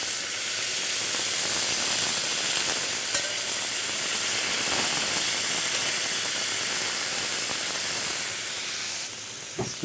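Morel water hisses and sizzles loudly in a hot pan as it bastes John Dory fillets, a steady close frying crackle that fades slightly at the end.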